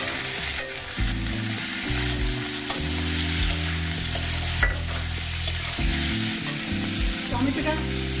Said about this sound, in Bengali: এবার আমি দিয়ে দিচ্ছি একটা কেটে রাখা টমেটো।